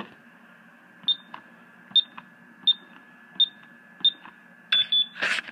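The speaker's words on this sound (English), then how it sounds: "So I'm about to set the alarm" Security alarm keypad in a fire station beeps while being set, six evenly spaced short tones followed by a quicker cluster of beeps, close and clear in a quiet room.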